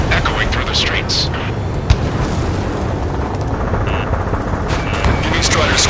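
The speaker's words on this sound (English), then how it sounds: "Gunfire and the roar of jets echoing through the streets." Gunfire and roaring jets over a city under martial law in Ace Combat 7, a dense, loud rumbling wash with scattered sharp cracks, layered under a talking voice throughout.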